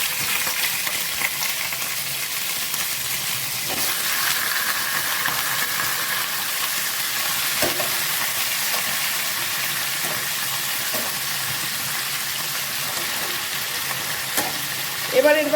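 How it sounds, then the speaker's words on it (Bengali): Marinated chicken fries in a pan with a continuous, dense sizzle and crackle, broken by occasional faint stirring taps. The sound stays even and close throughout, with no talking. "এবার এটা একটু ভাজা ভাজা করব"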